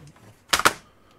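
Brief burst of typing on a computer keyboard during a Bible study session: two or three quick, close clicks clustered together, then quiet.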